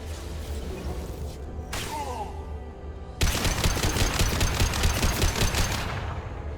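Rapid bursts of gunfire from the video game Mass Effect 2 break out abruptly after a low, rumbling stretch, then continue as a loud, dense stream of shots for several seconds.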